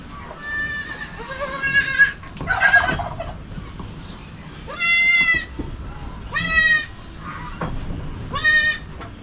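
Newly added pure-breed goats, small kids among them, bleating loudly in repeated wavering cries at close range, several animals calling one after another with farmyard noise between.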